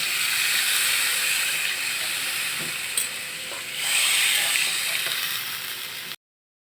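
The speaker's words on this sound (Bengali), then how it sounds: "ঝোল আমার ফুটে উঠেছে।" Mustard-based chital fish curry gravy bubbling in a pan, a continuous close hissing simmer with a brief clink and a surge of steam partway through before it cuts off.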